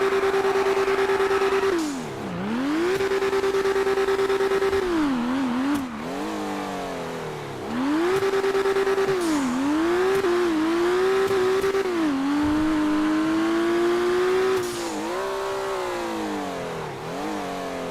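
A loud V12 car engine in a video game revs repeatedly, its pitch swooping up and down with each throttle blip before settling into a high, sustained drone.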